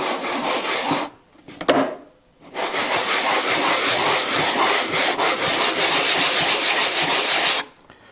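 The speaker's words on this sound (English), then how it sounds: "rub it against this sanding block and see that you're actually flat" Segmented wooden rings rubbed hard back and forth across a sanding block in a woodturning shop, producing loud, close, continuous gritty scraping with a short pause partway through.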